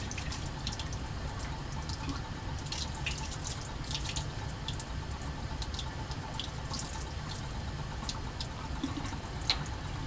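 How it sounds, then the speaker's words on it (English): Lab glassware that held hydrochloric acid being rinsed under a running tap, a steady splashing stream with small clinks and drips throughout, close and alone. "Just rinse out the acid."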